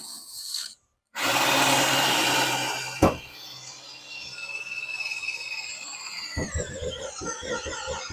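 Stepper bit drilling into metal while fitting an upgrade on a 1983 Chevy Blazer, a steady loud grinding whine running several seconds after a brief pause, then giving way to quieter scraping and tapping.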